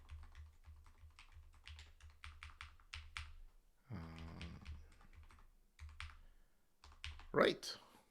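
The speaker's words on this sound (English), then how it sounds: "I can just tap away on my keyboard" Quick bursts of keyboard typing on a computer, close and fairly loud, with short pauses between runs and a steady low hum underneath; a voice talks briefly in the middle.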